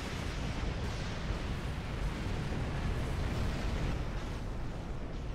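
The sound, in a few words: rocket barrage explosions in Star Trek Online video game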